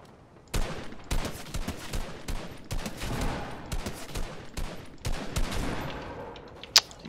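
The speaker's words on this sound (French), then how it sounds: "C'est Fortnite, c'est un peu bizarre quand même la façon dont ça tire." Gunfire in the video game Fortnite: rapid volleys of sharp shots in uneven bursts, fairly loud and up close, ending with one harder crack, with no talking.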